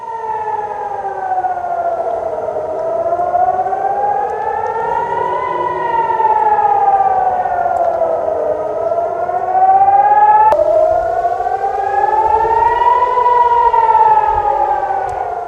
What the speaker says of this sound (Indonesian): Rekaman video menunjukkan sirene terus meraung saat beberapa roket melesat melintasi langit Israel